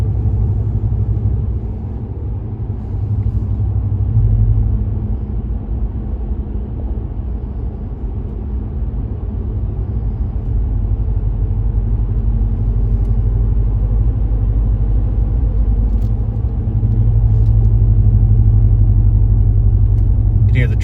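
A RAM Rebel pickup with a B2 Fabrication moderate muffler and resonator delete cruises on a road, its exhaust droning as a steady low rumble from inside the cab, swelling louder near the end as revs rise.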